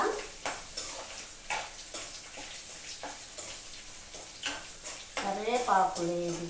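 Two dry red chillies and garlic fry in hot oil with a steady soft sizzle, punctuated by rhythmic stirring taps against the pan, while a voice talks over it toward the end.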